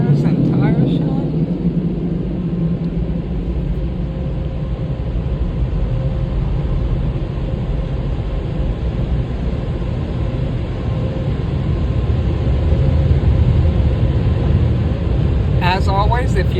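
Powerful car wash dryers blowing in Franklin Park, PA: a loud, steady low roar of rushing air that stays constant throughout, with brief speech from a person near the start and end.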